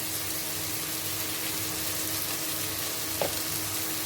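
Beef with carrots and vegetables sizzles steadily in a hot pan, a constant loud frying hiss with a brief scrape of stirring partway through and no talking.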